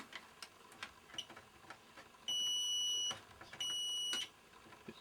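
Multimeter in continuity mode on an LCD TV circuit board giving two steady electronic beeps, each lasting about a second with a short gap between, loud over a quiet background with faint ticking.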